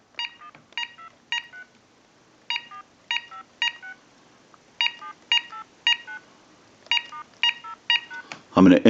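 An AT&T 5450 cordless telephone dials a number as a string of short, crisp keypad tones in uneven groups, close and clear, finishing with a loud handling clunk.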